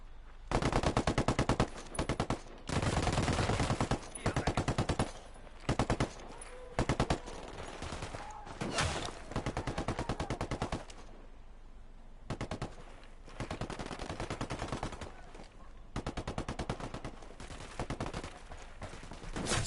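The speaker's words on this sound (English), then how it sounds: "I'm opening fire." Dense automatic gunfire in Ghost Recon Wildlands, long loud machine-gun bursts hammering in rapid succession with brief gaps, continuing almost nonstop for nearly twenty seconds.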